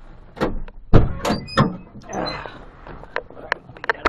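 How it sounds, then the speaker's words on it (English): A door on a 1980 Chevrolet El Camino, a dusty project car, swings and shuts with a series of sharp clunks and rattles close by, interspersed with quieter creaks and knocks. "Whoa, the door likes to close on me."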